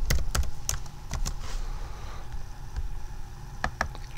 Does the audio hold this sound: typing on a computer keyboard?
yes